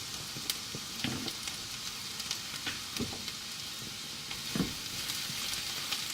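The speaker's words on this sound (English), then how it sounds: "we're going to let those onions sweat off" Onions sweating in butter in a pan, a soft continuous sizzle with occasional light stirring clicks and pops, close but fairly quiet, with no voices.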